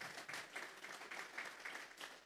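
Applause for the Lord fills a church service, a steady wash of many hands clapping together in a soft, somewhat distant rhythm with no speech over it.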